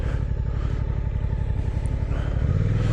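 A Suzuki GSX-8R motorcycle pulls away in first gear with the clutch eased out, its engine a steady close rumble that rises slightly toward the end.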